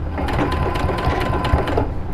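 A sewing machine back tacks along the edge binding of a rag quilt, its rapid rhythmic needle chatter and motor whir close and loud for about two seconds, without talking.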